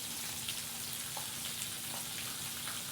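Pork chops frying in a pan at camp, a constant close sizzle and crackle with small pops scattered through, steady and fairly quiet, with no voices.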